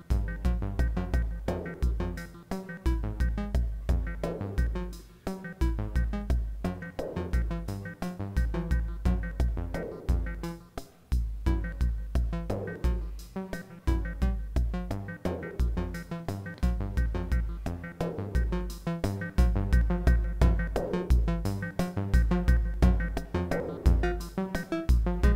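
Two modular synth oscillators run through a low pass gate, producing a dense, steady stream of plucky, bassy pulses and chiming tones in a continuous rhythmic pattern with no speech.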